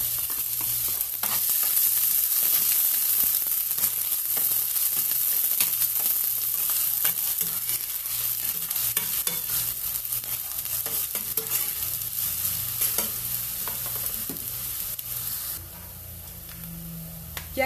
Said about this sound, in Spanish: Voy a agregar cebolla picada y la voy a freír